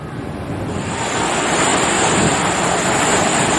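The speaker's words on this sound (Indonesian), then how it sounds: "Ombak besar terlihat menghantam dinding pelabuhan." Big waves pound against a harbour wall at Bakauheni port in strong wind, a loud, continuous roar of surf and gusting wind noise that swells and stays heavy throughout.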